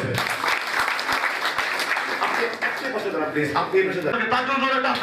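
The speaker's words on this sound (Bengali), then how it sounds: "তার জন্য জোরে একটা হাততালি" Sustained audience applause at a celebration program, dense, steady clapping from a crowd throughout, with voices rising over it toward the end.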